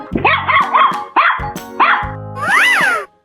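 A cartoonish dog barks in a 3D animal video game, with a quick run of loud, sharp yips followed by a longer, wavering howl-like bark, all close and clean.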